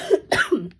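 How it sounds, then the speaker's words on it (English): A short burst of harsh coughs, three in a row, close and loud. "I don't want to catch my coughing on video."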